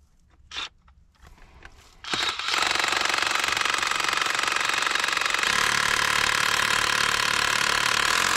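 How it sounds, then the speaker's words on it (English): A few clicks and handling sounds, then a rock drill starts up and runs loud and steady, a harsh continuous hammering grind close by, drilling into rock while prospecting for uranium. "Let's drill some rock."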